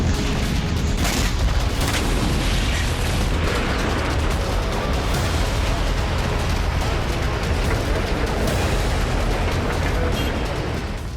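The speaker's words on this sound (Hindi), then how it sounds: "दाहिया में इजरायल ने एक के बाद एक 4 राउंड बमबारी की" Bombing explosions in Beirut's Dahieh, heard as a dense, loud wash of booming blasts and rumbling noise, with several sharper bursts breaking through the sustained roar.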